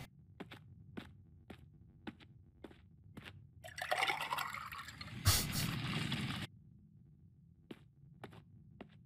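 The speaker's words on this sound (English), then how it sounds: "I'm filling a pot with blood?" Liquid pours and trickles into a pot in the video game Drizzlepath: Glass, a few seconds of rushing fill between regular clicking footstep-like ticks, close and fairly quiet.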